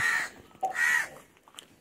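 Crows caw in a city yard while animals are being fed, two loud harsh calls close by followed by fainter caws further off.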